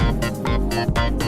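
Vocals run through a vocoder in Ableton Live, giving a dense, buzzy synthetic voice with rich harmonic layers, sung in phrases with brief gaps, loud and upfront.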